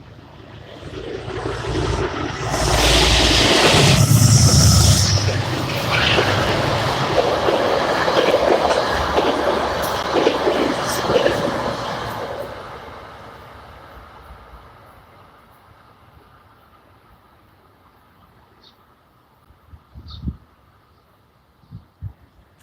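A northbound Wasaic Express diesel train passes Botanical Gardens station with a loud, building rumble and wheel clatter that peaks and then fades away into distant quiet.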